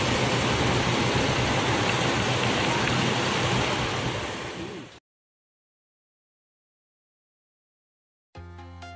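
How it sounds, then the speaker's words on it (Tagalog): Heavy rain pours down in a dense, loud hiss, then cuts out abruptly into silence before a brief burst of another sound. "Ang lakas ng ulan."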